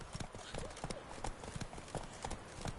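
Roach, the horse in The Witcher 3 video game, trots along with a steady, rhythmic clip-clop of hooves. The footfalls are evenly spaced and moderately close, and they run throughout.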